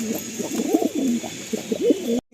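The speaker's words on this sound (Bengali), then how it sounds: "পায়রা কত ফিট অ্যান্ড ফ্রেশ দেখুন।" Short-tailed, long-legged pigeons coo in repeated soft, throaty phrases close by, several overlapping rolling calls with brief gaps, ending in a short silence.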